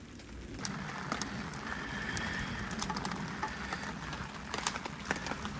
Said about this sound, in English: As the rain is beating down.